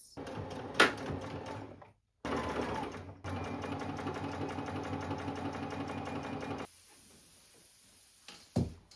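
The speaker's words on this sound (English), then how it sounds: "we're going to do a straight stitch down each of the sides here" A sewing machine runs a straight stitch down the side seams of a dress in steady mechanical bursts, stopping briefly between runs, then near-quiet with a faint click near the end.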